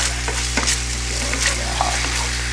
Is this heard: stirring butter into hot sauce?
yes